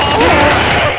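Rapid automatic gunfire from an attack on Russian arms traffickers in an X-Men animated episode, a loud dense burst of overlapping shots lasting about a second with a voice faintly beneath.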